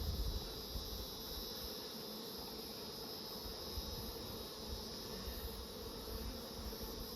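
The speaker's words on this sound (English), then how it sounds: "You can see bees covering all those frames." Honey bees buzzing over hive frames in a healthy colony with fresh nectar, outdoors at an apiary. A steady, dense drone hums on without a break, close and fairly loud, with no talking.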